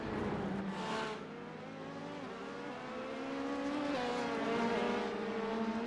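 Multi-class IMSA race cars, including LMP2 prototypes, lapping Portland International in the iRacing sim, engines droning and shifting pitch steadily as several cars pass close, loud and continuous with no voices.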